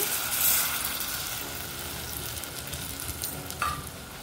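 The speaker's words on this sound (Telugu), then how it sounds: "ఇప్పుడు ఇందులోకి చింతపండు గుజ్జుని వేసుకొని" Tamarind pulp sizzling in a pan for radish sambar, a steady close frying hiss with faint crackles and a brief stir near the end, no talking.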